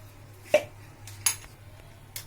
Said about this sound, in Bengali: এবার আমি আগে ব্যাটারটা গুলে নিচ্ছি